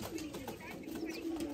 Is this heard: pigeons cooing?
yes